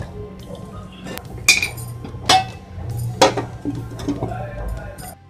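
Curry ingredients for Rajpipla chicken curry are stirred together in a pan with a metal spoon, giving a string of bright clinks and knocks against the metal over a low background rumble.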